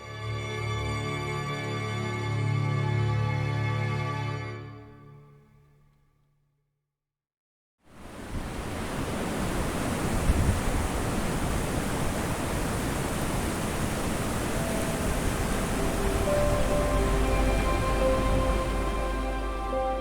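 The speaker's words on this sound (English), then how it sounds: "The water's flowing over from the river, through the balusters." River water pours over balusters into the Star Pond at Boughton House, a broad steady rushing roar that cuts in after a brief silence and then holds loud and constant.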